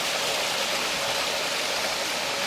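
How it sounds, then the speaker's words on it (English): A small waterfall beside a rail trail in the Poconos gives off a steady, broadband rush of falling water, continuous and close, with no voices. "Another little waterfall area."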